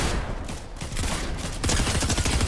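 Rapid bursts of shotgun fire in the video game Fortnite crack out loud and close, several overlapping blasts packed into a couple of seconds with no talk over them.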